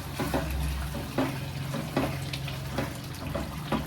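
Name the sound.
hot water poured into chicken mince curry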